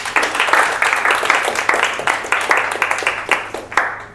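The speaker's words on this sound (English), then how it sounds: "Applause for him, please." An audience at a Toastmasters speech applauds with steady, crowded clapping that continues evenly for several seconds before thinning out at the end.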